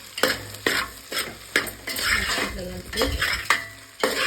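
Okra being stirred and mixed in a hot pan: repeated scraping strokes of a spoon against the pan at a steady rhythm, with a light sizzle underneath, close and fairly loud.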